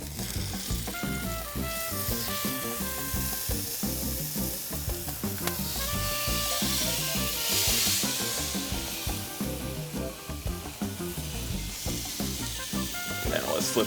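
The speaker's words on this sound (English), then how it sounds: "it's time to flip these steaks." Steaks sizzling on a grill just after flipping, a continuous crackling, popping fry with clanks of utensils, sitting close and steady throughout.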